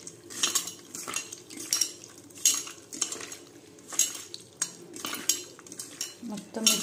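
Raw prawns are stirred together with chili powder, paste and salt, and a spoon scrapes and clinks against the mixing bowl in a quick, uneven rhythm. The sound is close and fairly quiet, with no talking.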